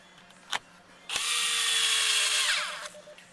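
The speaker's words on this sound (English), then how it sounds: "then screw it back into place" A power screwdriver drives a single Phillips screw back into place while installing cruise control in a 2010 Dodge Dakota; one click, then a steady whirring run of about a second and a half, close and alone.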